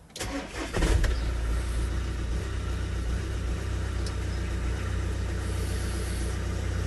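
A VW Caddy engine cranks and catches, then settles into a steady, close idle with a low rumble that continues to the end, with no talking.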